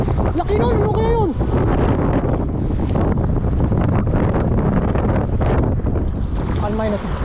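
Strong wind roars loudly and steadily across the microphone on a fishing boat at sea, with the rumble of the water around the hull, as someone talks over it and briefly shouts.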